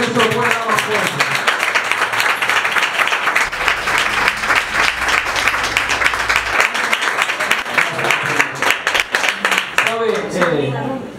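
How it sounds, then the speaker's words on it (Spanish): A church congregation applauds loudly and steadily throughout, dense clapping filling the room, with a voice talking over parts of it near the start and end. "Siéntate, si puedes, mientras das un aplauso al Eterno."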